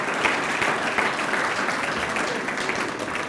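Dense, steady applause from a lecture audience at a keynote address, a continuous wash of many hands clapping at even loudness throughout.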